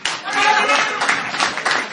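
Audience applause at a live Italian concert, a dense burst of clapping filling the room for a couple of seconds.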